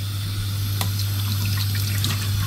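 Water runs steadily from a tap or is poured into a kitchen container for mixing with egg yolks, a continuous trickle over a low constant hum, with no talking.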